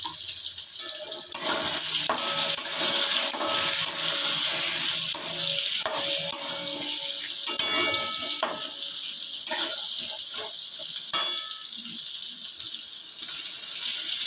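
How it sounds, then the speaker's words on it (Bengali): Eggplant pieces frying in hot oil in a pan give off a steady, close sizzling hiss, with occasional clinks and scrapes of a utensil against the pan. "বেগুনগুলো ভাজা হয়ে গেছে"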